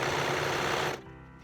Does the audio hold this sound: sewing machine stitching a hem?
yes